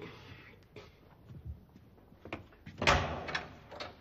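An apartment door with thumps and a sharp knock or bang near the end, heard under background movement and voices in an indoor comedy sketch.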